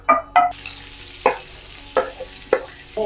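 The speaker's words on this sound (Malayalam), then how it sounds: "നമുക്ക് കുറച്ച് ഉള്ളി ഇട്ട് കൊടുക്കാം." Onions fry in a pan with a soft sizzle, broken by several sharp scraping stirs of a spatula at irregular intervals.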